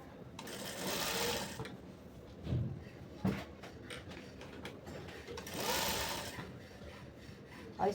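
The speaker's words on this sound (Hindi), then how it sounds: "इसको इस तरह से पकड़ेंगे और सिलाई करके ले लेंगे।" A sewing machine stitches a one-piece frock with sixteen panels, its faint steady whirring running in short bursts with small pauses between runs.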